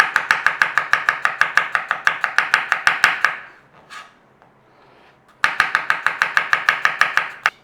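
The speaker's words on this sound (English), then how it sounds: "we want to be slicing this garlic, so just slice away" A knife slicing garlic on a cutting board for cabbage and bacon fry, a fast, even run of crisp knocks, then a short pause with faint rustling before another quick burst of rhythmic chopping.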